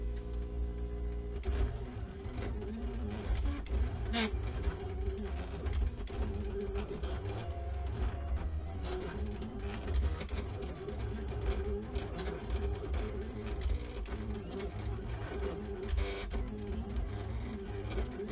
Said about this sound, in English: then I can go ahead and send it to my printer